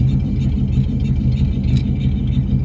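A 1937 Packard 1501 convertible engine idles steadily close by, its exhaust giving a continuous low, even rumble with no talk over it.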